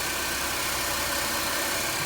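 A BMW E46 with the M43 engine idling while its AC compressor fails to engage: a steady, close, even engine hum with no change in pitch and no talk.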